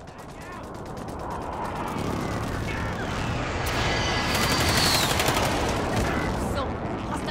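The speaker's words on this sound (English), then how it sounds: "friendly precision airstrike inbound" A precision airstrike in a first-person military shooter, with loud, rolling explosive blasts and rattling gunfire that build into a sustained roar, a voice speaking underneath.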